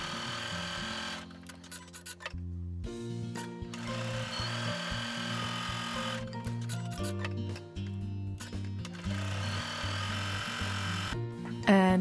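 A sewing machine quilts a fabric panel for a patchwork bag, a quick rhythmic chatter of stitching in bursts with short pauses between runs, close but low in level.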